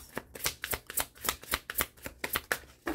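Tarot cards shuffled and drawn in a rapid series of crisp, papery riffles and flicks, close and fairly quiet, with no talking.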